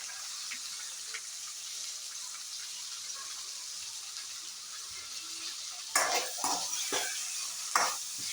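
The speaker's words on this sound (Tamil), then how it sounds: "2 தக்காளியை வந்து அரிஞ்சு வச்சுருக்கேன். போட்டு நம்ம வதக்கிக்கலாம்." Two chopped tomatoes sauté in a hot pan for a Tamil curry, a steady soft sizzle close by, with a few louder stirring scrapes toward the end and no talking.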